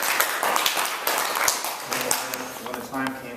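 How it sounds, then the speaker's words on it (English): A small audience at a yoga studio literary reading claps briefly, scattered hand claps that thin out as a speaker's voice returns over them. "I'm just going to clap"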